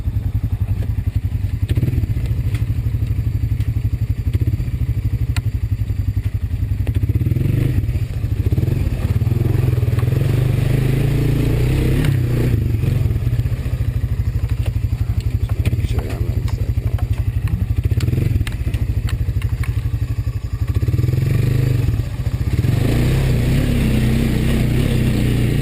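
An off-road vehicle grinds through deep flood water in second gear, its engine drone loud and steady throughout, with clattering, thuds and splashing scrapes over the engine rumble.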